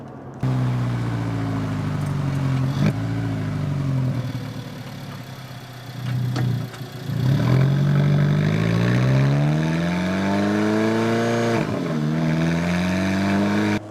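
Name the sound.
sports car driving in automatic dual-clutch mode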